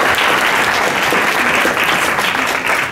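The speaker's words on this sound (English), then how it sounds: "So, a round of applause, please, for Mark." An audience applauds Mark at a keynote talk on homelessness, loud, dense and continuous clapping from a large crowd that fills the whole moment.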